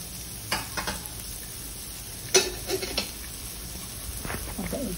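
Onion tossed into a hot pan for a paneer cheese frankie gives a soft, close sizzle, broken by a few sharp clinks and scrapes of stirring.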